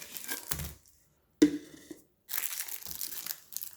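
Plastic packaging around silicone ice ball molds is crinkled and crushed by hand in close, loud bursts separated by brief silences, with no talking.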